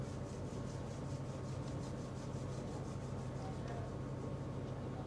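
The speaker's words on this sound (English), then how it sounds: "Rub your palms gently until you feel a little warm sensation." Palms rubbing together steadily for yoga warmth, a soft continuous rasping swish with a faint rhythmic pulse, quiet and close, with no talk over it.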